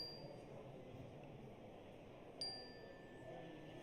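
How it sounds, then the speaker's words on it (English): A meditation bell is struck once partway through, its clear ring sustaining faintly into the end over a steady low room hum. "And when I sound the bell,"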